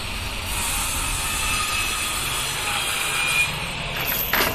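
An angle grinder cuts through a door with a steady, loud, high metallic whine and grinding rasp that holds continuously for several seconds. The tone shifts slightly near the end.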